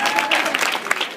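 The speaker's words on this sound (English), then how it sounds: "Everybody clap for Elliot." A campus event audience claps loudly and continuously for the host in a brief, crowded burst of applause.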